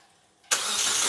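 A turbocharged Toyota Hilux engine starts for the first time after a build, bursting from near silence into a loud, steady, rough running roar close by.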